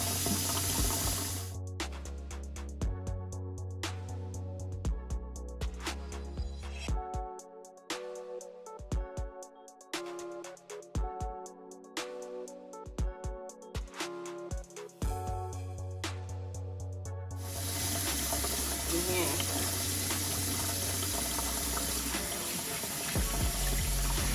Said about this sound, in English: so just gonna rinse it, finagle it a little bit